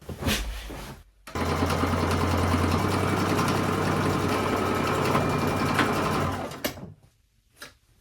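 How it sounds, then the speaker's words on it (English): A sewing machine stitches a straight side seam on a pair of side-tie pants, whirring in one loud continuous run of several seconds after a short start, then stopping abruptly with a few small clicks. "now we'll do a straight seam down this side and a straight seam down this side"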